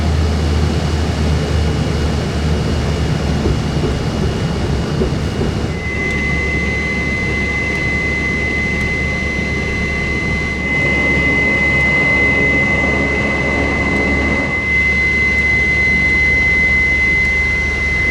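An airliner lands at the new Saint-Pierre airport, a loud continuous cabin roar of jet engines with a rising steady whine and shifts in pitch as the aircraft slows, heard from inside with no talking.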